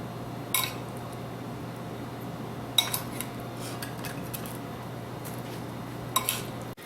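A spoon spreading bruschetta topping of garlic and parsley onto a bread slice, giving a few scattered, faint clinks and scrapes over a quiet kitchen background hum, with no talking.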